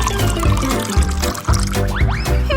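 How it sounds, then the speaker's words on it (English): Boiling water poured onto instant bulldog noodles, a continuous gurgling pour with shifting tone as the container fills, close and fairly loud, over music. "Let's take some bulldog noodles and brew it in boiling water."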